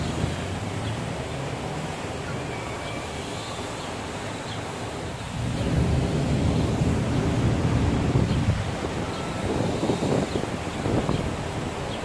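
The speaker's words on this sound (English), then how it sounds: "It's gotten really windy all of a sudden out of nowhere." Strong wind blows across an open park, a steady roar of gusts buffeting the microphone that swells louder about halfway through and stays heavy, with no voices.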